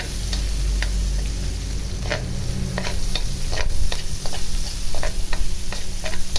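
Garlic and onion sizzle and fry in a pan for a Filipino fried-fish and pechay sauté, with steady hiss under repeated clicks of a spatula stirring, no talk.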